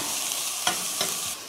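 Vegetables stirred in a Dutch oven: a steady bed of sizzling hiss with two sharp scraping strokes of the spoon near the middle, close and moderately loud, no voices.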